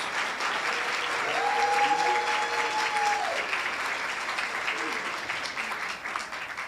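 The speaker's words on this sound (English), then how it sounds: "Big round of applause" A crowd at a community breakfast event applauds warmly, the clapping dense and sustained throughout, with a brief tonal sound and faint voices mixed under it.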